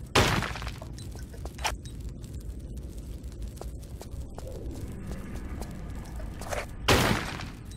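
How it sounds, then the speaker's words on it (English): Gunshots shatter small vases in the Tomb Raider 4 game, sharp loud bangs at the start, middle and end with crisp breaking crashes and scattered small clicks between, without any talking. "I am going to shoot all of these little vases"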